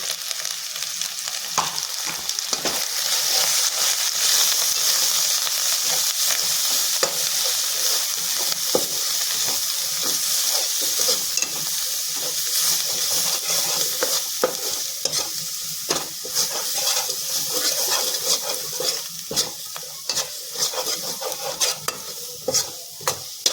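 Spices and chicken sauté in a hot pan for a Begmati green chicken dish with coriander, chilli powder and turmeric, a steady close sizzle broken by frequent scraping stirs throughout, no voices.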